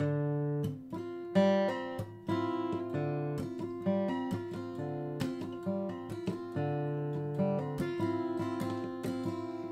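Acoustic guitar chords strummed steadily, with quick hammered-on notes flickering inside the chord over and over, no voices.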